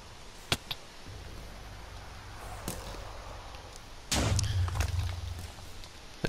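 A Wither boss explosion in Minecraft, a loud low boom that swells suddenly and holds as a broad rumble, following earlier sharp game thumps and clicks over a steady background hum.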